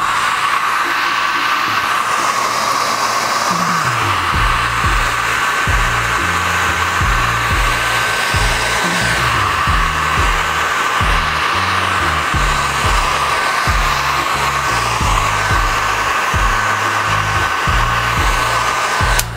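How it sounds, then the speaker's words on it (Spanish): Hair dryer blowing continuously to dry airbrushed textile paint, a loud steady whooshing roar close by with uneven low tones beneath, throughout. "Y me voy a ir ocupando de utilizar el secador."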